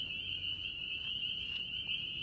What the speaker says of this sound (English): we hear frogs, tree frogs or water frogs or something